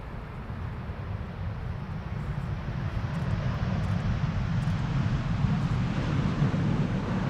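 A TUI Boeing 787-8 Dreamliner arrives at Amsterdam Schiphol, giving a steady broadband jet engine roar that swells gradually as it approaches, mid-distance and fairly loud, with no talk.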